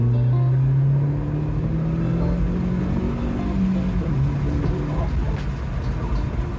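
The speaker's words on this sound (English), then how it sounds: "I will just give it a little bit of a blip so you can see if you can hear the exhaust note." A Hyundai Veloster engine rumbles and rises in a brief throttle blip, its low exhaust note swelling then settling back to a steady drone, with some background voice.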